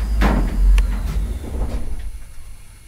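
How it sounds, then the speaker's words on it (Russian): Doors of an ED9M electric commuter train close with a loud thud and rumble followed by a fading hiss of air, heard close from inside the cab. "Осторожно, двери закрываются."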